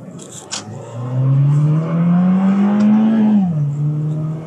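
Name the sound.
Mazda Miata car engine revving during downshift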